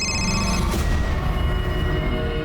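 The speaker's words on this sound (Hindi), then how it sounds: "मैंने ताई के बारे में जानने के लिए अजय मोरजकर को कई बार फ़ोन किए" A telephone rings with a steady electronic tone, mixed into a dense, loud background bed throughout.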